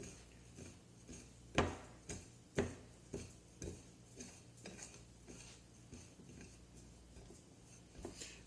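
Cayenne pepper seasoning mixed in a bowl, heard as soft intermittent taps and scrapes with a few sharper clinks early on, fairly quiet and close with no voices.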